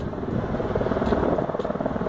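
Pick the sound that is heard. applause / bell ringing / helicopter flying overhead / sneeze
helicopter flying overhead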